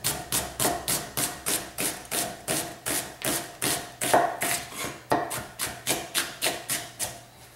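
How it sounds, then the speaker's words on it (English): A knife cuts an onion into thin julienne strips on a cutting board, giving a steady rhythm of crisp, close chops of roughly two per second. "Now I'm going to julienne the onion, and that just means thin strips."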